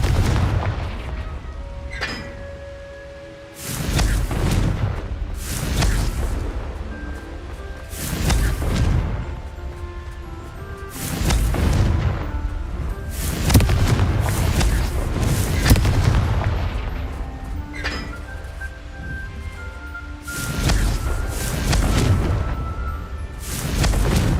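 Confringo blasting curse explosions in Hogwarts Legacy: a long run of loud, booming blasts roughly every couple of seconds, each punchy impact trailing off with a ringing magical tone before the next one hits.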